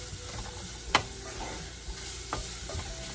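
Food cooking in a pan on the stove, a soft steady sizzle broken by a few sharp scraping stirs of a utensil, close and fairly quiet, no talk.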